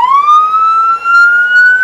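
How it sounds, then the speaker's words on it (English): A fire and police emergency vehicle siren in a county siren test sounds as a single loud, close electronic wail that climbs steadily in pitch, with nothing else heard. "It's the same siren as well."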